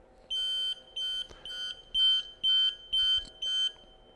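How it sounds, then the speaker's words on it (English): A Fanuc robot controller horn beeps seven times in a steady on-off rhythm, each short high electronic tone evenly spaced, clear and close. "if I were to toggle the horn on and off, we'll be able to hear an audible beep here"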